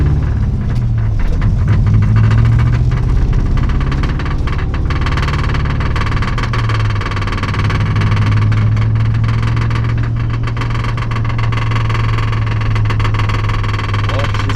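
A Toyota 1UZ V8 swapped into a Nissan 240SX drives along the street, its engine a loud, steady, close-up drone with shifting revs, a faint voice now and then beneath it.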